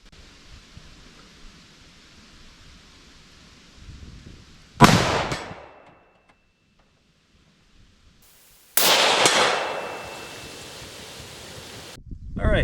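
A .30-06 rifle shot hits a t-shirt draped over an AR500 steel plate, a sharp, loud crack with an immediate metallic impact that drops to near silence, followed by a second loud burst and a long noisy decay.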